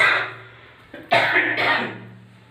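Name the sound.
cough from being unwell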